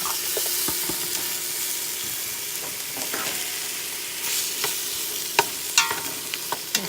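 Tomato goes into a pan with onion, garlic and oregano frying in oil, giving a steady close hiss of sizzling, with a few sharp stirring clicks and scrapes toward the end, no talking.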